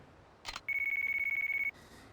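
A telephone rings in Yakuza 3 Remastered: a brief bright burst, then one steady electronic ringing tone that pulses rapidly for about a second and stops, with faint game ambience around it and no talk.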